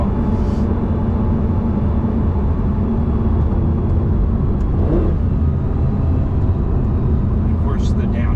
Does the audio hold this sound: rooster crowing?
no